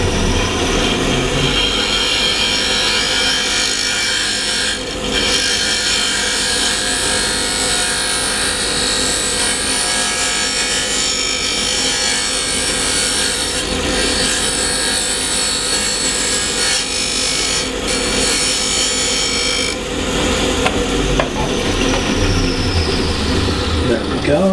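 A bocote wood yo-yo spins on a lathe while a tool cuts away a flat spot, giving a loud continuous scraping, rasping whir with brief dips in intensity throughout.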